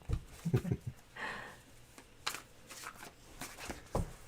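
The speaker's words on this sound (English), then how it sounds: "you got to get me shuffling big cards at least once" Large tarot cards are shuffled by hand, giving soft papery riffles and taps that come in short uneven bursts, fairly quiet and close, with brief pauses between them.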